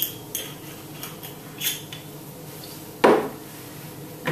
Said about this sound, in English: And just stir that through.